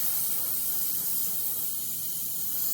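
Steady, continuous hiss of an airbrush spraying India ink, even and close, with no voices and no pauses throughout.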